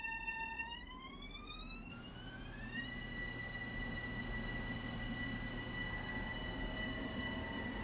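A Metro North train departing in Train Sim Classic, with a rising electric motor whine that climbs in pitch and then settles into a steady hum over a low rumble.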